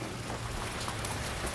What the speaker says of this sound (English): I got rain sprinkling on me as we speak.